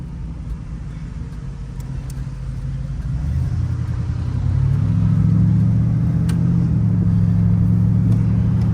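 A 1986 Oldsmobile Cutlass 442 drives on the road, its engine a steady low rumble that swells after a few seconds as the car accelerates, then holds a louder, even drone.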